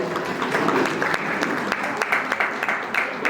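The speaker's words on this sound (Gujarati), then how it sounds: "જોરદાર તાળીઓથી આપણે એને પણ વધાવીએ" A crowd at a retirement function applauds loudly, with many hands clapping in a dense burst and distinct sharp claps standing out, sustained for the whole few seconds.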